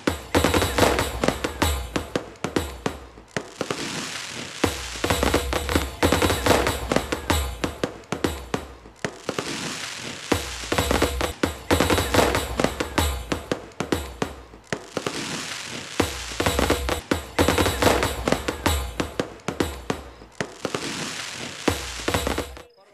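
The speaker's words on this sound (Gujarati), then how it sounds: "જોયું ફટાકડો ફૂટે ને? ફટાકડો ફૂટ્યો." Firecrackers burst in long, loud crackling volleys, several sustained rapid-fire runs separated by brief gaps, with no voices heard.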